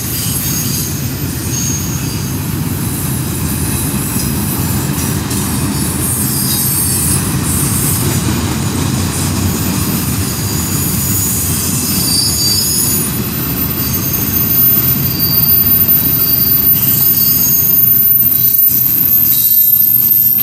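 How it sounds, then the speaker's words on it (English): A long CSX westbound container train with mid-train helper locomotives rolls past close by, its wheels squealing continuously over a heavy rumble of railcars that grows louder toward the end. "Nice long train."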